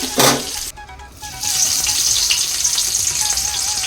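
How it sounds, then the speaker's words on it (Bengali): Potatoes frying in hot oil give a steady, close hiss that swells and holds after a brief dip, with a faint thin tone running underneath and no voices. "তো এই যে আলু ভাজতে বসিয়ে দিয়েছি"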